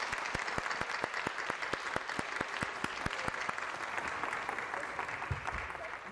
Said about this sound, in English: a warm round of applause to this wonderful and outstanding panelists